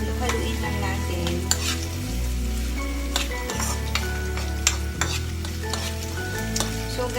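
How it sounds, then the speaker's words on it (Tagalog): Chicken gizzards stirred in a pan, with a constant sizzle under repeated spatula scrapes and metallic clinks in a steady stirring rhythm, close and fairly loud, with no talk. "Haluin lang natin."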